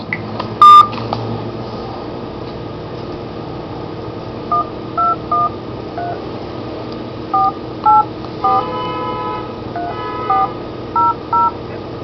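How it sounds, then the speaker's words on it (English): A phone keypad dials a Los Angeles police number, a string of short, clear touch-tone beeps in irregular groups over a faint line hiss, with one louder tone burst near the start. "I did dial 213-484-3400"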